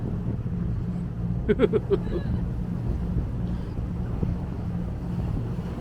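Wind blows steadily across a boat cruising off the Queensland coast between Hervey Bay and Bundaberg, a constant low rushing rumble with a brief faint vocal burst near the start.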